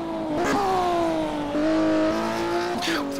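Classic Porsche Cup race cars in a racing sim, engines droning loud and steady with gear-shift dips and a brief tyre squeal as one drifts wide, under a faint hint of commentary.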